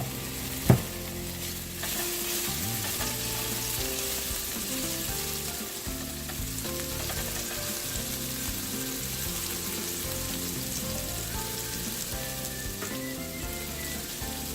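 Green chili paste made from three chilies fries in a pan for sabudana khichdi, Maharashtrian style. A sharp clack opens, then a continuous crackling sizzle runs under repeated stirring scrapes, close and steady, with no talk.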